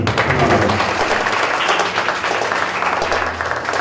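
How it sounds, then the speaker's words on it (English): An audience at a peace project graduation ceremony claps in a brief, dense round of applause, close and steady throughout. "Give me another round of applause."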